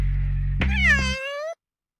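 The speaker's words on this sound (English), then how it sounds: "this time we're going to talk about the meow" A single domestic cat gives one clear, drawn-out meow that rises and then falls, close and loud, following a short stretch of low background hum.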